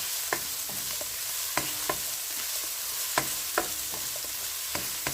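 Onion, garlic and ginger stirred in a hot pan for a simple squash-and-crab coconut dish, a steady sizzle with irregular scraping clicks of the spatula throughout.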